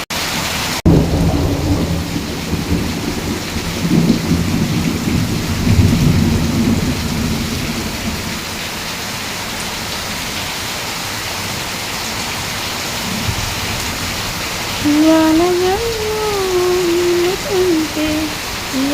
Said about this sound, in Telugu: చూడండి ఎంత వర్షం వస్తుంది.